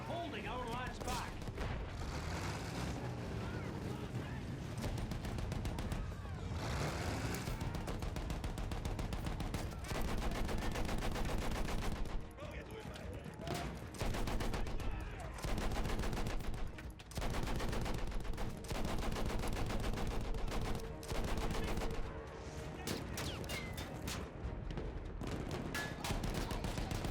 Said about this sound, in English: Those machine guns are holding our lads back.